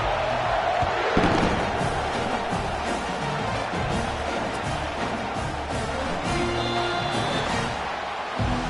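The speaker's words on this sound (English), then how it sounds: "This crowd bringing an ear-splitting welcome to their visitors." A packed crowd at a Sooners game roars an ear-splitting welcome for the visitors, a loud unbroken wall of cheering with scattered thumps.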